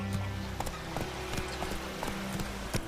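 Roach the horse trots in The Witcher 3, its hooves clopping in a steady, regular rhythm at close range over a low ambient hum, with no speech.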